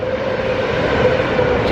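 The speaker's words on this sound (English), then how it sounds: "Train's just pulling in." A train pulls into a station at Disneyland Paris, heard as a steady, loud rumble and hum of rolling carriages with no voices.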